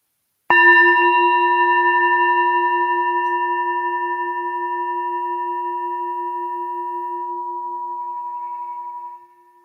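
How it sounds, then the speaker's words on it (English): A meditation bell is struck once and rings with a clear, pure tone that sustains and slowly fades for about nine seconds before dropping into silence. "listen to the sound of the bell as it fades back into that silence"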